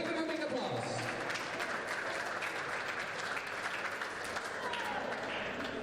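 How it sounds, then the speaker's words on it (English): Steady applause from an audience fills the hall at a junior squash championship medal ceremony, dense and continuous throughout with no pauses. "We gave him a big applause"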